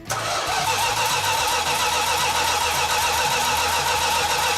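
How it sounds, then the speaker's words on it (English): A 440 Six Pack V8 cranks over without catching. The starter-driven churn is loud, close and continuous, with a rhythmic pulsing that holds steady for several seconds. "when we initially tried to start cranking the engine over, we had a nice fuel leak"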